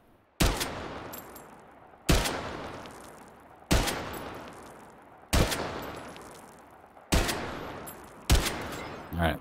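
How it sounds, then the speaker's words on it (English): Six loud rifle shots from an MCX Spear fitted with a SIG Tango 6T scope in a video game, fired one at a time at an even, unhurried pace, each a sharp crack followed by a long decaying tail. "let's take a couple shots here running the SIG Tango 6T"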